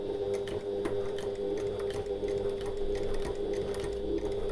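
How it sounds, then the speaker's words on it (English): A domestic sewing machine runs a seam on an oval fabric bag at regular stitch length, giving a close, steady mechanical whir with a rapid even ticking rhythm throughout. "I'm going to use a 1/8 of an inch seam allowance, that's 3mm, and I'm going to use my regular stitch length."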